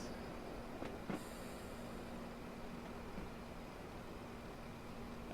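A Class 159 train in Train Simulator 2015 rolls into Starcross station with a steady rumbling hum and a couple of brief clanks, quiet and continuous with no voices.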